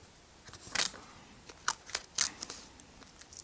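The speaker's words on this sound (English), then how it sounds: "Then I'm going to take some tape again." Tape is pulled off the roll during an airsoft magazine conversion, several short sharp ripping bursts at close range separated by brief pauses.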